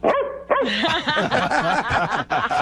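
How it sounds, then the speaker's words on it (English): A dog barks and yips repeatedly in quick, excited bursts, loud and close, with a few whimpery high notes between barks. "bark twice if you want me to rescue you and send you to Sam Simons."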